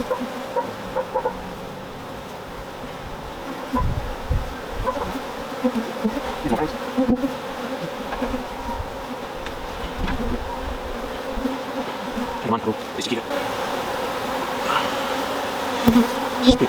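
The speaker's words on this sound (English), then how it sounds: "we do want these bees to move away, so we're doing very slowly, give them some time to get out of the way" Dense, continuous buzzing of many honey bees close by during a brood box inspection of an open hive, with occasional knocks and handling noises over the steady hum.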